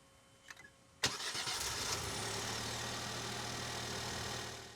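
A car with a drained battery, jump-started from a power bank, cranks briefly after a few faint clicks, then its engine catches and settles into a steady, moderately loud idle.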